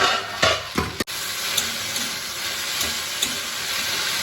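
Okra (bhindi) frying in a pan gives a steady, loud sizzle throughout, with a sharp knock near the start and no voices.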